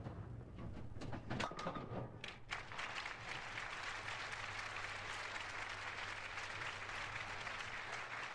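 Crowd applause at a women's bowling tournament, a dense steady clatter of clapping that swells and holds for several seconds over a low venue hum, with no talk.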